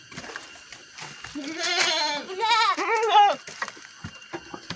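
An Etawa goat, a young prospective breeding male, gives a couple of loud, close, wavering bleats in quick succession before quieter background sounds return.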